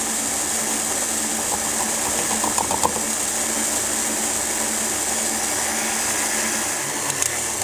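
A stand mixer fitted with a dough hook runs steadily on low speed while making cinnamon roll dough, giving a continuous motor whir with a faint rhythmic knock from the bowl.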